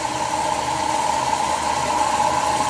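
An old woodworking lathe turning a Machiche wood platter at very slow speed, a steady low motor hum with a constant whine, close and unbroken, no talk.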